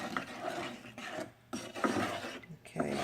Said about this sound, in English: now you keep stirring this